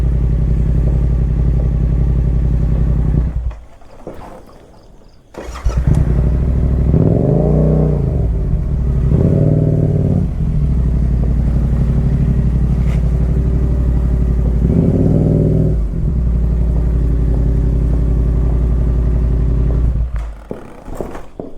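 A motorbike engine runs close by, idling loud and steady, with a brief drop near the start and several rising revs that swell and fall before the engine cuts near the end.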